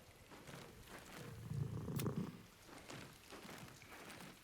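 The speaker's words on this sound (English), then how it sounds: "Cat go purr." A cat purrs softly in the fantasy role-playing game Baldur's Gate 3, a low, steady rumbling purr that swells briefly in the middle and continues faintly on its own.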